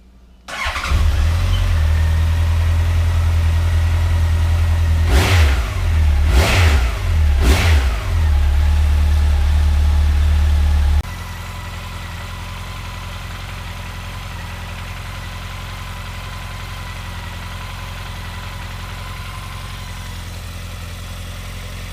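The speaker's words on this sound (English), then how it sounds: "And then next, you're going to want to crank the bike." A Honda CB motorcycle engine cranks and catches, then runs loud with three sharp throttle revs rising and falling before settling into a steady, lower idle that continues evenly to the end.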